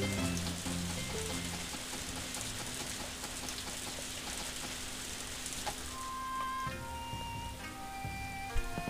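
Rain falls steadily in the video game Harvest Moon: A Wonderful Life, an even crackling hiss like drops on a surface, with soft game music and chimes underneath and no talking.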